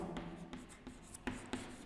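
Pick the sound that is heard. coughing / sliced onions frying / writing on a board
writing on a board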